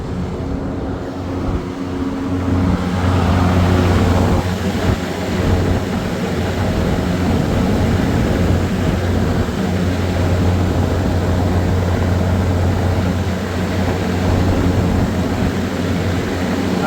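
A supermarket refrigeration rack pumping down during a drier change, giving a steady loud mechanical hum and drone with tonal compressor whine, continuous and close, with no talking.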